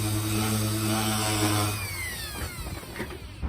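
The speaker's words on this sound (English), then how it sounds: "So I'm just going to sand" A power sander stripping old paint from wood hums with a steady motor whine, then winds down and gives way to rough, uneven scraping and rustling, close and fairly loud.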